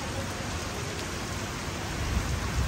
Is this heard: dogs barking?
no